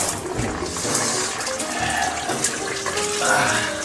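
Water gushes steadily into a bathtub in a home bathroom, a continuous rushing splash that stays close and fairly loud throughout, with no voices over it.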